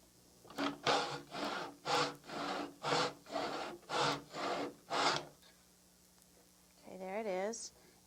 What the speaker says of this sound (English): when I put this lumber in the cutter, in the miter box, I have to line the saw up